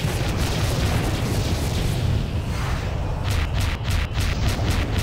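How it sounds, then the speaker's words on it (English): A swarm missile explosion in the space combat game FreeSpace 2: a dense, sustained low rumbling boom filling the whole stretch, loud and close, with faint crackling bursts toward the end. "seems like a swarm missile got him"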